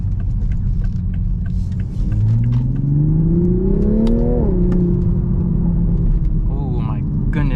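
A 2023 Toyota GR Supra in sport mode accelerates hard, its engine note climbing steadily in pitch before dropping at a downshift and pulling again; the loud, close engine runs throughout with brief speech over it.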